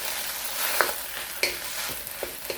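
Rice being stirred in hot oil in a pan for Chinese sticky rice, a continuous close sizzle with several clicking scrapes of the utensil against the pan.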